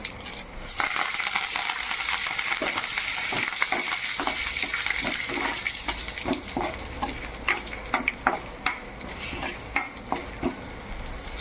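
Curry leaves hit hot oil in a pan for a ridged gourd chutney, setting off a loud, steady crackling sizzle with sharp pops and spoon scrapes toward the end, close and with no talking.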